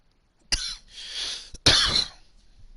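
Two sharp coughs from a nearby person, each a sudden loud burst followed by a rougher trailing rasp, separated by about a second, with a faint breathy pause between and quiet background otherwise.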